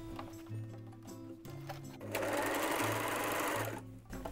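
An overlock serger stitches off fabric to finish a thread tail, its rapid mechanical whir rising loud and steady midway, with soft handling noises before it.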